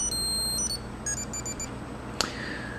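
Electronic alarm beeping tones from an iPod Touch's built-in speaker play in short repeated bursts, followed by a sharp click and a sustained higher tone, with a steady hum underneath.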